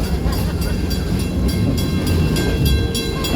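An amusement park train at Busch Gardens rumbles past close by with steady rolling noise and rhythmic clicking of wheels over track joints, loud and continuous throughout.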